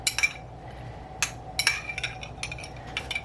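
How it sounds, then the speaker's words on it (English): A spoon scoops and mixes keto food on a plate, giving several light metallic clinks and scrapes in brief clusters against a steady low hum, close by with no talking. "I'm gonna just take a little scoop of everything, mix it in"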